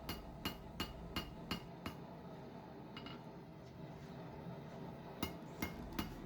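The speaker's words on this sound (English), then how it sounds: "I'm replicating what it would take for a customer to use a cross peen." A cross peen hammer taps a bronze arm band, ringing metallic strikes in quick even runs of about five, then a pause and a few more, close up with a light workshop hum and no talk.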